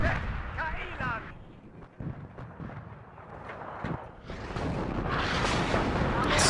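Artillery fire in the real-time strategy video game WARNO, a rumbling barrage of deep booms and blasts swelling toward the end, with a voice talking over it.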